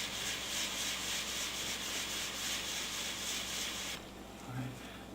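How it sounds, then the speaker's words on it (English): Very fine sandpaper rubs steadily across a stone carving seal in a continuous close, quiet scratchy hiss that stops abruptly near the end, leaving a faint room tone. "And use a very fine sandpaper."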